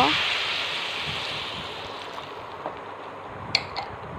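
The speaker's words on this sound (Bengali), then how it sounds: "এখন জল দেব" Water is poured into a pan of cooking mushrooms, a rushing liquid hiss that starts strong and slowly fades, followed by a few faint clinks near the end.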